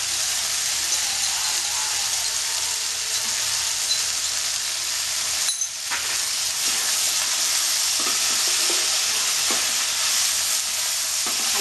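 Spices, cumin paste and tomatoes sizzle and hiss steadily in a pan, close and continuous, with a brief scrape of stirring midway and occasional soft clatter.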